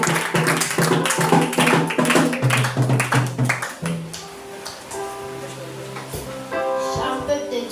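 A church congregation claps together in praise, with rhythmic taps of hands over music and voices. The clapping thins out partway through, leaving sustained tones and singing.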